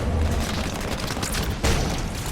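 Heavy rumbling blast as a cannon is destroyed in Halo 5, a dense roar of explosion and debris with a sharper boom near the end, loud and close.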